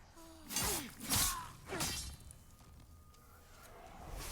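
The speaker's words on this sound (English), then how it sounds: "That's what you get for smashing pots." Clay pots shattering in the dark-fantasy game Demon's Souls, three sharp breaking crashes in quick succession, each with crumbling debris, fading into a quiet hum.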